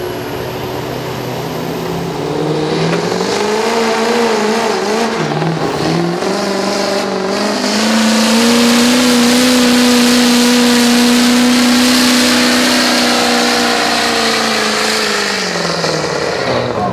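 A turbocharged pulling tractor at a county fair tractor pull roars down the track, its engine loud and sustained with rising and falling revs across the whole pass, no talk over it.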